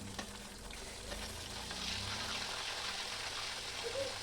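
Tomato frying in oil with chana dal and peanuts makes a soft, low sizzle with light bubbling and occasional stirring clicks, quiet and continuous.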